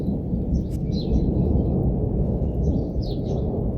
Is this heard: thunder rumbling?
yes